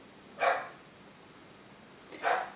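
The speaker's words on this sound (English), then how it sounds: "Sorry about my dog barking." A dog barks twice, with a pause of nearly two seconds between the sharp barks, fairly close in an otherwise quiet room.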